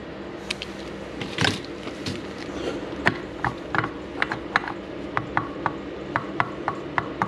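Bolts on a DRZ 400 magnesium engine cover are tightened by hand with a ratchet, giving a string of small, sharp clicks in an uneven rhythm, close up and fairly quiet with no talk.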